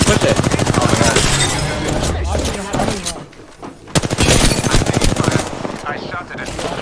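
Loud, rapid automatic gunfire from the Apex Legends battle-royale shooter comes in two dense bursts separated by a brief lull, with excited players talking over the shooting.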